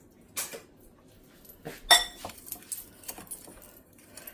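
Vanilla pudding mix gets stirred in a bowl, giving scattered clinks and taps of utensil against the dish, with one sharper ring near the middle and softer knocks after it. Close and fairly quiet, no talking.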